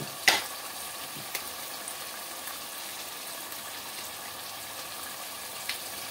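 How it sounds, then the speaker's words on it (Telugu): Chicken fries in a pot with turmeric added, producing a faint, even hiss of cooking with a few soft clicks and taps, heard at a distance and without any voices. "జస్ట్ ఊరికి వాళ్ళకి ఫ్రై చేసి ఇచ్చేసేద్దాంలే అని చెప్పేసి ఫ్రై చేస్తున్నాను."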